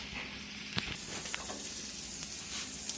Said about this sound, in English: We want to cook all the garlic down in there to where it really gets the flavor.